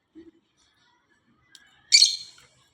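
Pet lovebirds and budgerigars in a cage give a few isolated chirps: a faint low peep at first, a short tick, then one brighter, louder chattering call near the end, with quiet gaps between.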